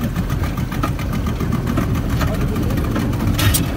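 Speedboat engine on Lake Beratan in Bali, a steady loud motor drone with a rough, knocking rumble that holds level throughout.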